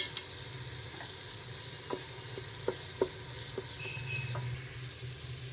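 Steady oil sizzle and frying hiss as garlic fries in a pan for chicken karahi, with a few soft clinks and stirring taps, no talking.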